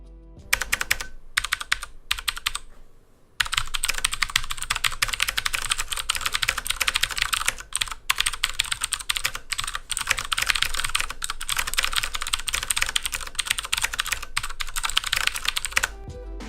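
Loud, clicky typing on a HyperX Alloy FPS mechanical keyboard with blue switches, a rapid stream of sharp keystrokes after a brief pause near the start, with no talking.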